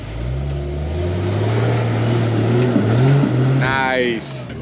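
A Jeep engine idles low and steady in four-wheel-drive low on a rock-crawling trail in a rainforest, revving slightly with a shifting drone, while people talk over it near the end.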